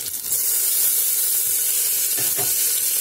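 Onions, tomatoes, green chilli, and ginger-garlic paste fry together for mutton biryani, giving a loud, steady, hissing sizzle throughout, with a couple of faint stirring bumps.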